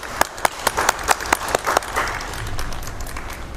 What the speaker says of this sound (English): Please join me in a round of applause for these 6 wonderful students